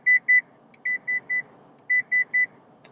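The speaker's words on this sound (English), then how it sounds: "the notification is about rear cross traffic alert." A Lexus LC rear cross traffic alert chimes in short, crisp beeps, grouped in twos and threes with brief pauses between the groups, clear against a quiet cabin.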